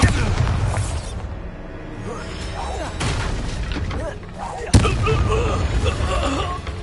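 A Bombarda explosion spell in the Hogwarts Legacy video game, loud booming blasts and a sharp burst amid a rumbling battle din, with a voice speaking over it.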